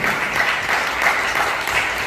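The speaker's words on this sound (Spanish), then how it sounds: "Den un fuerte aplauso al Señor, por favor" A church congregation claps together in a steady, full wash of applause during an evangelist's service, continuous and fairly loud without a break.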